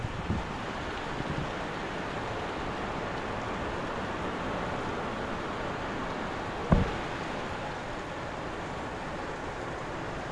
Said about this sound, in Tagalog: lumalakas yung hangin